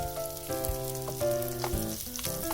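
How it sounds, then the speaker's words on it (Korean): Button mushrooms and garlic pan-fry in butter with a steady, close sizzle and small crackles, and no talking over it. "뒤집어가지고 또 반대쪽도 이렇게 노릇노릇 구워주세요."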